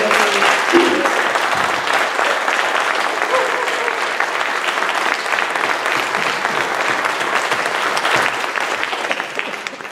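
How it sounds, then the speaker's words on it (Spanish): Audience applause fills a book launch event in southern Chile, steady and dense clapping from a sizable crowd that holds loud throughout and tapers slightly at the end. "Pido un aplauso."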